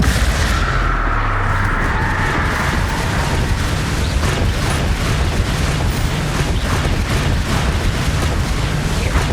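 Bombarda and Confringo spell explosions in Hogwarts Legacy form a dense, continuous barrage of loud booms and blasts with no pause.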